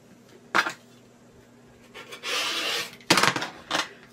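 Fabric edge of a baby quilt being trimmed square: several short, close rasping cuts in separate bursts, with one longer steady swish in the middle, in an otherwise quiet room.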